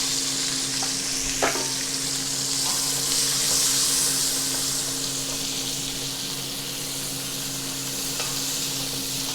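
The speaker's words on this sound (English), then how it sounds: "It's pretty much stir frying." Vegetables sizzle steadily in hot buttermilk in a saucepan, a close, continuous frying crackle with a few soft clinks and scrapes of stirring and no talk.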